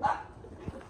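A small dog, a Pomeranian met on a farm in Sri Lanka, gives a couple of short close barks, one near the start and another around the middle, with faint chatter in the background.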